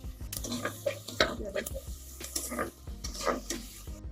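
Onions roast in a pan for village-style chicken sambar, with a steady sizzle and repeated scraping strokes of a spoon stirring against the pan, heard close up alongside faint background voice.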